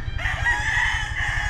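Rooster crowing at a shaded chicken farm under acacia, coconut and mango trees, one sustained crow ringing out over a steady low rumble of background noise.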